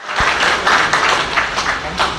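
A crowd claps at a Barnala police and civil administration anti-drug awareness event on International Drug Day, a steady, dense wash of applause that fills the whole stretch, with a voice heard faintly through it.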